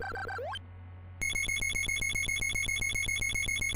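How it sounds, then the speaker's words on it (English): Heart-counting sound effect from the NES game Castlevania, a rapid, relentless train of bright electronic beeps that repeats in a steady fast rhythm after a brief descending chime and short pause, loud and alone. "Here comes the irritating heart noise."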